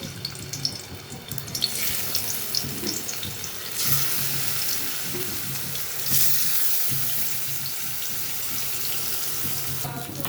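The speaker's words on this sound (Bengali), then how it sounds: "এখন আমি মাছ দিয়ে দেবো এক এক করে ভেজে নেবো" Koi fish frying in oil gives a loud, crackling sizzle that holds steady throughout, with brief surges of spattering.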